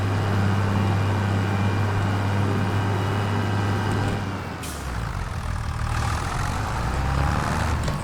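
A tractor engine in Farming Simulator 25 idles with a steady low rumble and a heavy drone while the machine turns around, then a brief hiss and shift partway through. No talk.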